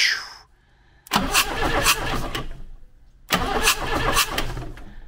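A VM diesel engine is cranked over twice, each bout a loud, close churning with rhythmic pulses and a faint pause between, separated by a brief quiet gap.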